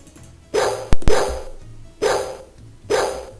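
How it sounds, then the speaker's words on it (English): In a haunted-mansion video game played on a Macintosh Plus, a stray dog barks in short, regular bursts. Three or four sharp barks ring out clearly at even intervals, with a click in between. "As you hear the stray dog barking in the distance"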